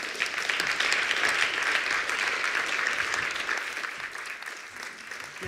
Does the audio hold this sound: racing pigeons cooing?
no